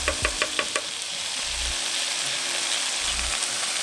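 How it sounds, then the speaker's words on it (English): Celery and bacon fry in a pan for a Korean side dish with soy and oyster sauce, giving a steady close sizzle, with a few quick clinks at the start and soft stirring scrapes throughout. "we're going to cook this until the celery becomes a little translucent and a little bit more flimsy"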